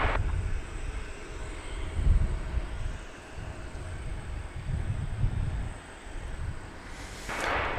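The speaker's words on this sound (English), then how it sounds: "it's actually already taking off. American Flight 822 to Lubbock, Texas. It's an Airbus A319" An American Airlines Airbus A319 takes off at DFW Airport at night, a steady distant roar of jet engines rising and falling in waves, with no voices heard.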